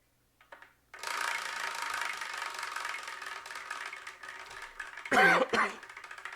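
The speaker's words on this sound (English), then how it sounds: "Tried my best not to cough" A steady whirring mechanical hum runs throughout, interrupted near the end by a couple of close, sharp coughs.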